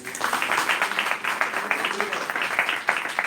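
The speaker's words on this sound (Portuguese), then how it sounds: "Aplauda o Senhor" A church congregation applauding, a steady patter of clapping at moderate distance, with voices speaking over the top.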